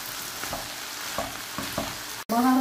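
Chicken sauté sizzles in a pan while it is stirred in several scraping strokes, and the sound cuts off abruptly near the end.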